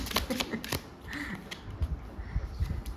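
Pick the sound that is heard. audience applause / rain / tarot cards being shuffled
tarot cards being shuffled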